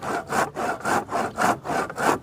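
Hand saw cutting through wood outdoors, with steady back-and-forth rasping strokes, about six in quick regular rhythm, close and fairly loud with no talking.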